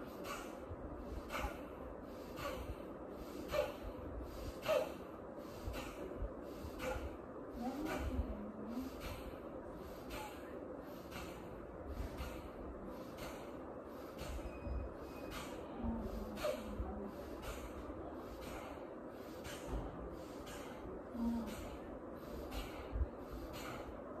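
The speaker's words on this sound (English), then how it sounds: "You're going to push, you're going to pump your air from the abdomen and exhale from your nose." Forceful nasal exhalations from abdominal pumping in a breathing exercise, about twenty sharp rhythmic snorting puffs at a steady pace, close and moderately loud over faint background hum.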